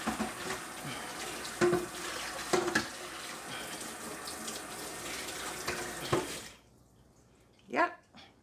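A pan is rinsed under a running tap, the water gushing steadily and splashing for several seconds before shutting off, then a brief clatter and a couple of splashes follow.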